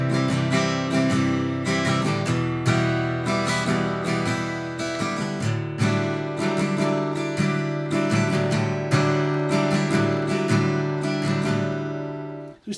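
Studio recording of the verse of a song, a full band mix with strummed guitar chords over bass and drums, steady and loud throughout, cutting off at the end.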